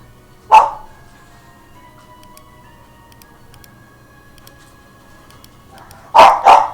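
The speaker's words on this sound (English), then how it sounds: "These people came here not to listen to you barking." A dog barks indoors: one sharp bark, a long quiet stretch with faint ticking, then two loud barks in quick succession near the end.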